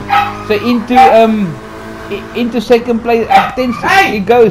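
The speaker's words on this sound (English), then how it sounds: "Sorry about the dog in the background." A dog barks and yips repeatedly in the background, in short bursts, beneath a commentator calling a Falken Polo Cup motor race.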